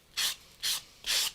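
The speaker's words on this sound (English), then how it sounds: "And then I would go back over it with the sanding sponge" Three short scratchy strokes of a sanding sponge rubbed at an angle along the edges of a napkin-covered gift tag, each a brief dry hiss separated by quiet gaps, close and distinct.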